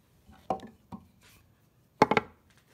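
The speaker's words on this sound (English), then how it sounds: "Now I got some chisel work to do to clean that up right to the line." A hand chisel cuts into wood to clean up a bowtie spline recess, producing a few sharp isolated taps followed by a quick cluster of three chopping strikes, close and crisp against a quiet background.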